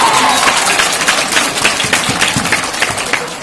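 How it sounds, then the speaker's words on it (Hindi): A crowd at a college farewell party claps steadily to welcome a speaker, dense, loud applause filling the room with no voices standing out. "सबसे पहले जोरदार तालियों से स्वागत मेरा"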